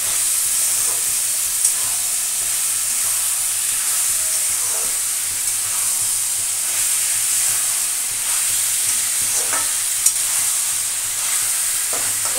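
Green jackfruit frying with garlic in a pan, a steady soft sizzle and hiss with occasional stirring scrapes and clinks, close and continuous, no voices.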